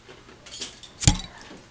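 Keys on a keyring carrying a bottle opener jangle in a couple of short metallic rattles, the louder shake near the middle, close and without speech.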